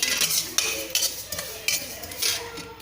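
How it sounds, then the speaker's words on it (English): Spices crackle and sizzle while frying in a pan for molagai podi, with sharp irregular pops and light clinks of a utensil against metal, close by and fairly quiet. "See, it started making a crackling sound."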